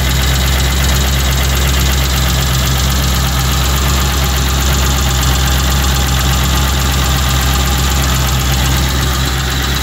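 A Land Rover Discovery V8 engine idles steadily, a constant loud, close rumble with an even mechanical chatter and no variation in pace throughout.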